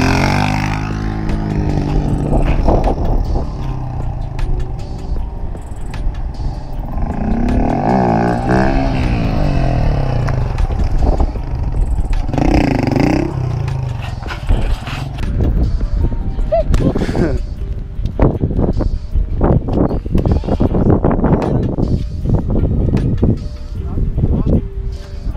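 A motorcycle engine revs hard and roars during wheelie riding at an open stunt practice area, loud and close with repeated throttle surges, mixed with people talking and shouting over it throughout.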